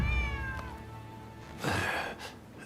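A stray cat in Rise of the Ronin gives a drawn-out, falling meow, close and clear, followed by a rougher, louder second cry with a gritty edge.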